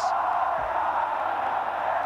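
Palmeiras fans fill the Morumbi stadium with a steady, distant chanting roar after a 4-1 derby win over Corinthians in 1999, with a commentator's voice over the crowd.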